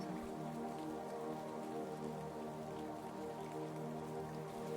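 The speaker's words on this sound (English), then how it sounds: "the rain easing into a fine drizzle" Light drizzle falls steadily near a lake house, a soft continuous patter of fine raindrops with an even, unbroken hiss throughout, calm and without voices.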